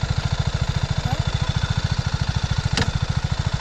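A 2022 BMW G 310 motorcycle idles close by with a steady, even low thumping pulse that never changes pace, broken by one brief sharp click near the end.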